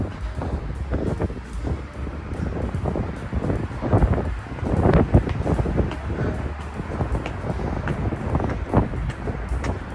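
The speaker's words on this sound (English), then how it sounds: "Wind's getting up now. Hopefully it's not blowing on the microphone too much." Gusty wind buffets a microphone outdoors on a walk in Bratislava, Slovakia, a steady low rumble with irregular thumps and swells, near a busy road.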